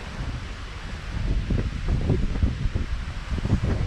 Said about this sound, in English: The wind's really picking up now, so I hope it's not getting too noisy for you.